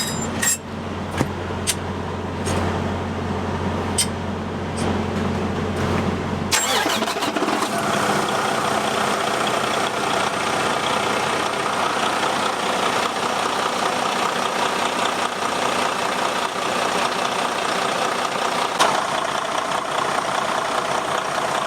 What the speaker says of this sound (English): I'm gonna have Heather start the engine up and make sure we don't lose a belt.